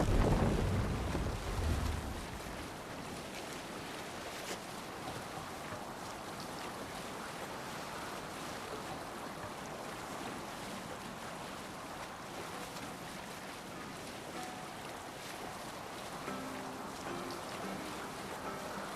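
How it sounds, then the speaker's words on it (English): A Viking longship sailing the open ocean in the video game Assassin's Creed Valhalla, a steady wash of waves and wind against the hull, soft and continuous, after a short louder burst at the start. "Shall we raise the sail, Eivor? Sail out"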